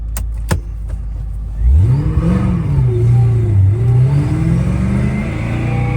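A 2007 Saleen Extreme Ford Mustang pulls away with a deep, loud engine note that climbs and falls as it accelerates, after a few sharp clicks and knocks up close.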